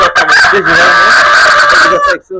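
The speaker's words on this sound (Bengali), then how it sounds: "এটা হচ্ছে ব্রাহ্মার ব্রিডার" A Brahma rooster in a breeder group with hens lets out a loud, close, drawn-out crow lasting most of the moment, with clucking around it.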